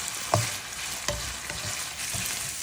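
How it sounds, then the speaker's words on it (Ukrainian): Minced meat frying uncovered in a pan while being stirred, a continuous hiss of sizzling broken by two sharp scraping knocks of the utensil, close and fairly loud with no talk. "Помішуємо, не солимо, не перчимо і ні в якому разі не накриваємо кришечкою."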